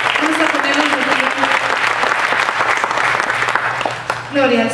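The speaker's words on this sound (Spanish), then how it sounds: "Den un aplauso al Señor, mis hermanos." Congregation clapping during a church service, a loud, dense burst of many hands with voices and a held musical tone underneath, easing near the end as another tone enters.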